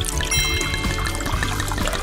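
Coke soda pours into a glass with a steady splashing, fizzing rush that runs close and continuous throughout, with no talking over it.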